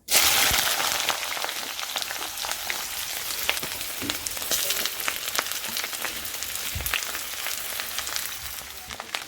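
Taro stems hiss and crackle in hot oil seasoned with black cumin, a dense, steady sizzle with sharp spattering pops scattered throughout, close and continuous with no talk.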